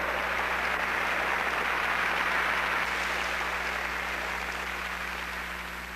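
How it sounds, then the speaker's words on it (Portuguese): A church congregation applauding during a worship service, a dense, sustained roar of clapping that holds steady and then slowly fades, with a constant low hum underneath. "Vamos aplaudir o Senhor!"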